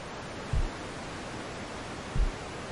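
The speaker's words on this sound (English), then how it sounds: "Yeah, the white noise is coming from the TV." Steady static hiss from a television in a horror puzzle video game, an even broadband wash of noise broken by two soft low thumps.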